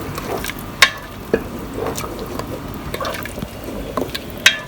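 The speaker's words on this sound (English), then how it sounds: "So now I'm going to add the tomato." Tomato going into a pot of cooked garlic for minestrone soup, with soft bubbling and sizzling under scattered sharp clinks and scrapes of a utensil against the pot, close and moderately loud.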